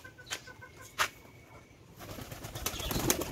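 Pet birds, doves among them, at a water spot: sharp wing flaps and soft clucking calls, close by, with a fluttering of wings building toward the end.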